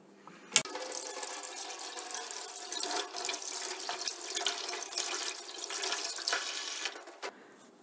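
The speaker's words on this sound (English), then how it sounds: "To start with, we'll first wash the fish properly." Tap water runs steadily over a fish being washed under the faucet before filleting, a continuous splashing flow that starts with a sharp knock and stops near the end.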